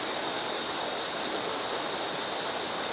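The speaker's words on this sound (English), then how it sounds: "start having a look at the absolutely beautiful river flowing through, and that'll eventually head to the waterfall" A river in Springbrook National Park rushes toward a waterfall, giving a steady, dense broadband roar of flowing water, continuous and fairly faint, with no voices.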